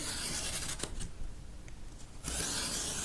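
Scissors or a blade cut a triangle out of stiff carton, with scratchy rasping strokes, a pause of quieter snips, then another burst of cutting.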